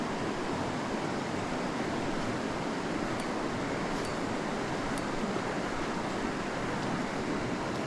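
Steady broadband rush of a trout stream's rapids, close and continuous, with no voices over the constant churning water.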